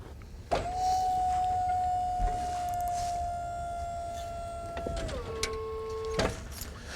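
An ice fishing shack on Mille Lacs is lowered by an electric motor, a steady whine lasting several seconds that drops in pitch near the end before cutting off, with light clunks at start and finish.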